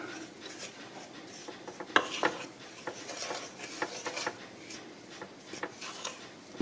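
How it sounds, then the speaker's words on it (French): Rice flour and sugar being mixed in a bowl for gluten-free chocolate rochers make a steady close scraping and rubbing, with a few sharper knocks against the bowl and no voices. "notre farine de riz, le sucre, on mélange bien le tout,"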